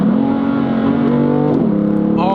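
BMW M3 Competition with a 7-speed dual-clutch transmission accelerating hard, a loud close engine howl rising and then dropping sharply through a fast gear change before climbing again.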